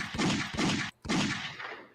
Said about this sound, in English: gunshots for the NHL